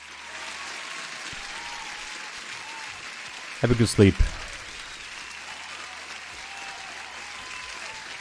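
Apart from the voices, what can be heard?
applause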